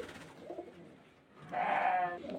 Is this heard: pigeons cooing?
yes